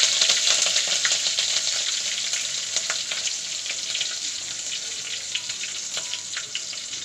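Masala fries in a pan for upma with a loud, continuous sizzle, and scattered scraping stirs break through it up close.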